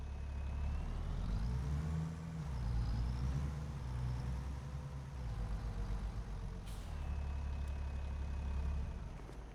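A tractor engine in Farming Simulator 25 drones steadily, its low rumble rising and falling in pitch as the machine maneuvers, with a brief hiss partway through, alone with no voices.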